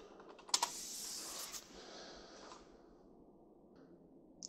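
A password is typed on a computer keyboard running Linux Mint: a close flurry of key taps for about two seconds, then near silence with one last faint click.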